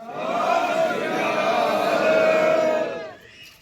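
A village crowd gathered for a panchayat announcement of a new sarpanch answers in unison with a loud, sustained Sikh jaikara shout lasting about three seconds, then fading out.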